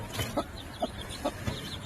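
Local village chickens cluck in short, evenly spaced calls, about four over two seconds, close by against a soft hiss of background noise.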